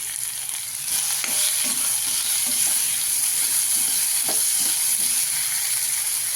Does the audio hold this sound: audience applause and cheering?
no